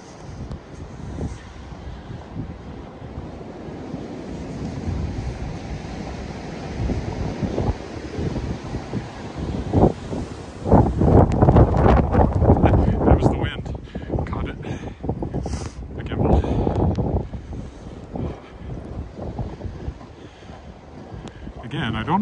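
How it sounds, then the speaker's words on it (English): Blizzard wind buffets a microphone on a November city street walk in Regina, a loud continuous roar that surges in gusts, strongest in the middle stretch, with a person talking under it. "The wind will be behind me when I turn the corner"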